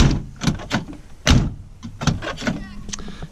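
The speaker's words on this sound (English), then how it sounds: "this door opens and closes nicely." Door of a 1967 Volvo 1800S classic car being opened and shut, a few close mechanical clicks and a solid thud, with light handling noise between them.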